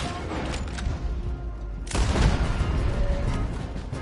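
Gunfire in Red Dead Redemption 2 during a roadblock chase, a dense rumbling roar of shots that jumps louder near the midpoint and stays heavy to the end.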